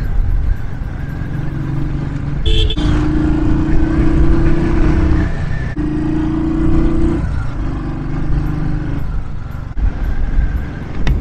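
A motorbike cruises along a highway, its engine giving a steady droning hum with broad wind rush, the tone shifting slightly in pitch as it rides, loud and close throughout.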